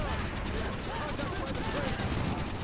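Rapid bursts of gunfire in Call of Duty: Black Ops crackle continuously under a dense, noisy mix, with voices faintly present.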